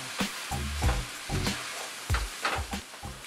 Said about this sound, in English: So add your rice and stir it with all of the softened veggies.